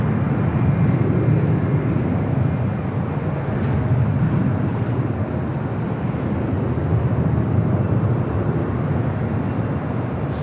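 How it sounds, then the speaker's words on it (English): A Copa Airlines airliner arriving at LAX from Panama City, landing on runway 25 left, gives a steady, loud, broad jet roar that holds evenly throughout with no voices. "The Copa Airlines coming in from Panama City."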